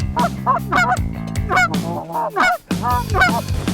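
Loud, close goose honks sound in rapid bursts during a South Dakota duck hunt, several low-flying birds calling over one another with brief pauses between.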